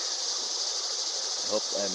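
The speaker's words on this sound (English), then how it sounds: "Well, that would be the cicadas." A constant high, shrill drone of cicadas by a creek in Sedona fills the air steadily, with a voice briefly murmuring beneath it near the end.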